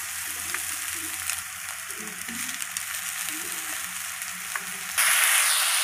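Boiled chow mein noodles and chopped carrots sizzle and hiss steadily in a hot pan during stir-frying, close and continuous, with scraping stirs and a louder burst of frying near the end.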